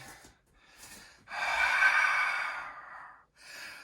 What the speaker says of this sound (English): Breathing nice and deeply.